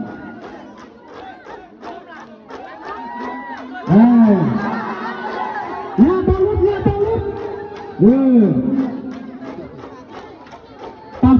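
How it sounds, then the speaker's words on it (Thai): A large crowd at a traditional merit-making festival in northern Laos cheers and shouts continuously, with loud rising whoops bursting out at regular intervals over the general din, and a voice speaking close by. "นี่เฮ้ยกำลังเชียร์เขาอยู่"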